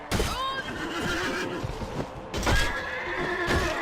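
A horse neighs in the medieval combat game Mount and Blade Warband, a loud whinny with wavering pitch followed by a second shorter neigh later, over a background of battle clatter and hoofbeats.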